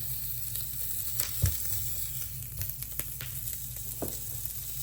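Conecuh sausage, a Cajun-style sausage cut down the middle, sizzles steadily in a skillet with no added oil, a close, continuous crackling fry with a few small pops and stirring sounds.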